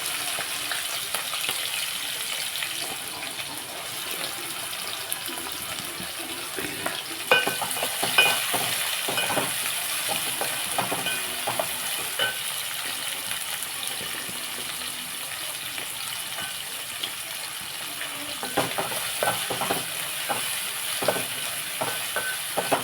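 Green chillies and onions fry in a pan for a curry, a steady bright sizzle with irregular scraping and stirring taps throughout, fairly loud and close, no voices.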